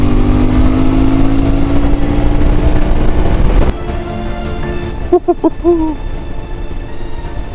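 A CFmoto 450 MT motorcycle accelerates at full throttle from 50, its engine note climbing steadily under heavy wind roar before it cuts off abruptly to a quieter rumble with a few brief tonal chirps.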